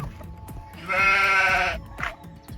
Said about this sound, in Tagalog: Ayun yung mga kambing.